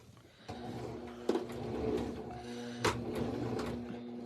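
Singer Start 1304 sewing machine stitching fabric in short bursts, a steady mechanical hum with a few sharp clicks, heard close with no talk.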